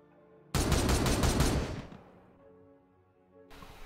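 Gunfire in Warhammer 40,000: Regicide, a loud, dense burst of rapid shots that cuts in abruptly, holds for over a second, then tails off into a fading rumble before another burst starts.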